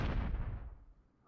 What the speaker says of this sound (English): so this is a pretty good explosion sound